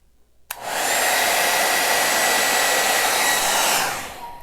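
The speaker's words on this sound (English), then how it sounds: "I was gonna blow it again with the hairdryer" After a brief quiet moment, a hair dryer switches on and blows steadily and loudly across a Dutch-pour acrylic painting in blues and purples, then its airflow fades as it is pulled away.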